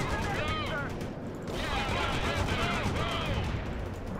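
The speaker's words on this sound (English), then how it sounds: "let's just gun these guys down" Sustained gunfire and battle noise in the World in Conflict strategy game, a continuous dense rattle of weapons with scattered impacts, steady and fairly loud throughout.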